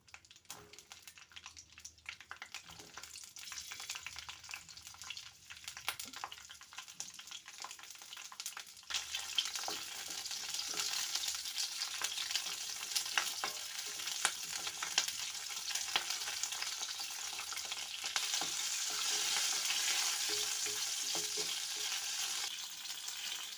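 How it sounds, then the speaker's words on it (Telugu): Green chillies frying in hot oil in a kadai, a crackling sizzle that starts faint and sparse, then grows into a dense, steady hiss with scattered pops, no voices. "అందులో ఆయిల్ వేసుకోవాలండి ఇప్పుడు అందులో పచ్చిమిర్చి వేసుకుందామండి"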